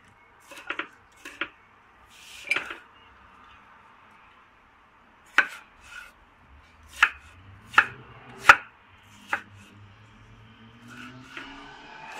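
A knife slices through a fresh tomato on a cutting board in a home kitchen, making about a dozen crisp, close chops in irregular bursts with short pauses between, over quiet background noise.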